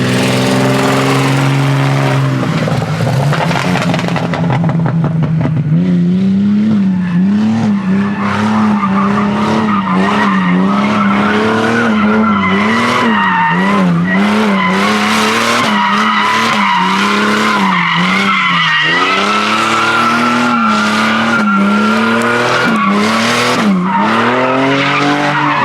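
Loud car drifting with a high-revving engine screaming through pitch swings and constant, sustained tire squeal throughout, close and continuous.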